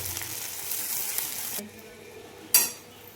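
Dal, green chili and coconut paste sautéing in a pan for Vidarbha-style Khandoli bhaji gives a steady close sizzle that drops away halfway, followed by a single sharp clank of a utensil against the pan.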